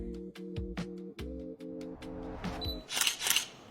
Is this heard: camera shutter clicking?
yes